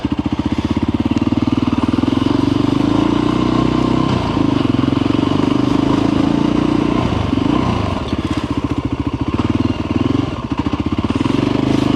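Voge 300 Rally motorcycle ridden along countryside dirt trails, its single engine droning loud and close throughout with steady pulsing exhaust, brief dips as the throttle eases, and faint clattering from the rough ground.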